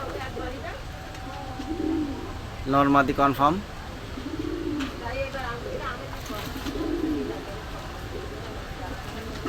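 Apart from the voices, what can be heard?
Pakistani pigeons cooing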